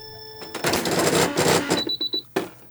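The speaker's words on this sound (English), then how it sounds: "I broke the needle on the foot and not a bone." A sewing machine stitches in a loud, dense mechanical run, then slows into a few separate clunks as the needle breaks against the presser foot, ending in one sharp thump, close up with nobody talking.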